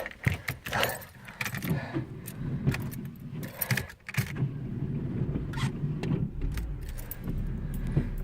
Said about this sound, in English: didn't think my car was going to start then